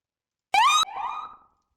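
A Roblox police siren gives one short, rising electronic wail, then drops into a fainter warbling tone that fades out within about a second.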